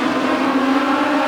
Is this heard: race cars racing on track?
yes